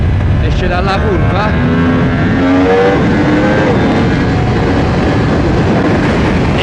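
A 2024 Yamaha R1 M sportbike exits a curve on a Naples street and pulls a wheelie, its engine roaring loud and close with a rising rev that sweeps upward and holds over steady road noise, with voices mixed in.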